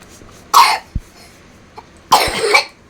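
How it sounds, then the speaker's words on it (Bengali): A phlegmy, wet cough comes as two separate harsh bursts a second and a half apart, with a small knock between them, close and fairly loud. "কফের কাশি না শুকনো কাশি? কফের কাশি।"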